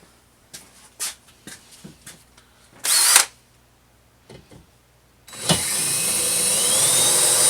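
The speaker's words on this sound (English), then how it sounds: "take our drill, and I'm going to drill out all these legs first" A power drill bores out the legs of a bar stool, starting at about the midpoint and running as a loud, steady whine that slowly rises in pitch. Before it, a few light knocks and a brief burst of noise.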